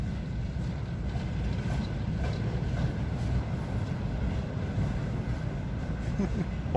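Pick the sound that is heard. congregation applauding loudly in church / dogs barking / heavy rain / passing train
passing train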